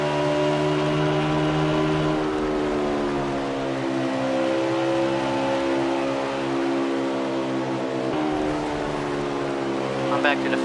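Stock race cars lapping at Dover in a racing video game, a loud, continuous multi-engine drone with rising and falling pitch as cars pass, running steadily throughout with commentary talk over it.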